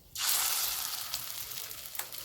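Lentil fritters (dal bora) burst into a loud, close sizzle as they hit hot oil, then keep frying with a continuous crackling hiss and no voices.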